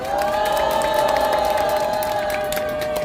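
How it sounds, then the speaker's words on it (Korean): A large rally crowd outside the War Memorial in Yongsan, Seoul, cheers and applauds the police officers on duty, a steady, dense wash of clapping and shouts that carries on without a break. "용산경찰서 관계자 여러분들에게 박수 한번 부탁드리겠습니다"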